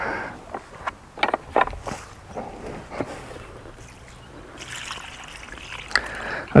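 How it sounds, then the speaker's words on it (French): Water poured over nettles tightly packed into a container, a soft trickling and splashing that runs on and off, with a louder gush toward the end. "On va compléter avec de l'eau."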